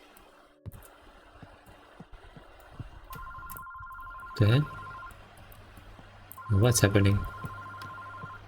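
A telephone rings twice in a horror video game, each ring a close, loud trilling burst with a steady electronic tone held between the bursts. The rings sound over dark ambient noise, and someone talks in a startled way.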